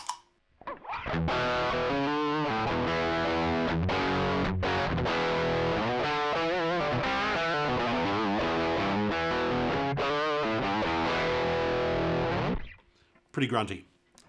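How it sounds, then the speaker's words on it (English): An electric guitar is played through the British channel of an amp-in-a-pedal, giving a gritty distorted tone with continuous chords and riffs for about twelve seconds before stopping into a brief pause. "Pretty grunty amp in a pedal"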